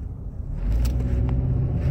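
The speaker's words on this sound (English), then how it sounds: "Ooh, that's a nice cop car." A police car passes close by on a road, its engine rumbling and swelling in a steady low roar that fills the short moment.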